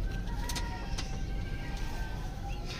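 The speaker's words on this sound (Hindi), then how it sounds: "ये आप चेक करें, सेबे वाला कबूतर है" Pigeon cooing from a Sialkoti pigeon, repeating softly and steadily under a constant background hiss, with brief bright chirps from other birds nearby.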